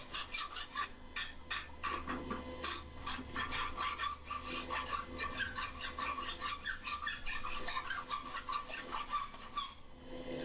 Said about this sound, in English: This uh, just tidies things up even more, a bit of hot rasping.